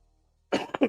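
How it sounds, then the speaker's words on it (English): A man gives a short burst of coughs, two or three rough, close hacks in quick succession following a moment of silence. "Excuse my old man cough here, just trying to get over something."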